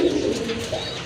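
Pigeons cooing at a seller's stall, with pairs of breeding birds including white-and-black Putul Gola pigeons offered for sale; soft, continuous low coos from nearby birds overlap with no talk.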